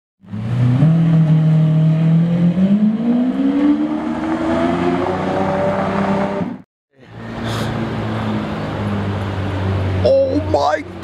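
A Lamborghini Murcielago LP460 revs hard nearby, its engine note climbing steadily, then cutting out briefly before roaring again at a lower pitch. Voices are heard near the end.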